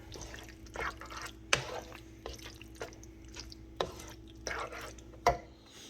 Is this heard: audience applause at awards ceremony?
no